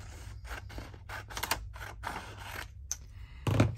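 Scissors snip out paper pockets for a handmade journal, a run of quick, crisp clicking cuts in irregular rhythm, close and fairly quiet, ending in a louder rustle of paper.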